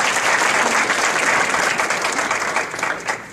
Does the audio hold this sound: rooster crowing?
no